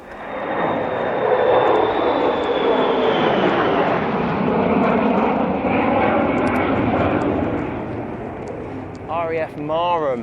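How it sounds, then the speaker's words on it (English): Military jets from RAF Marham roar overhead on a rainy day in rural Norfolk, a sustained broad loud rumble lasting most of the clip, with a brief burst of speech near the end. "I don't know if you can hear the jets taking off and landing. A couple just flew straight over my head."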